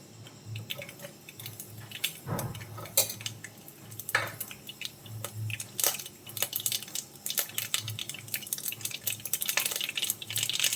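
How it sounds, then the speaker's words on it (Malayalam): Mustard seeds hitting hot coconut oil in a pan, a steady crackle of tiny pops with scattered sharper spits and a few metallic clinks, fairly close, with no talking. "നമുക്കതിലേക്ക് കടുക് ഇട്ട് കൊടുക്കാം"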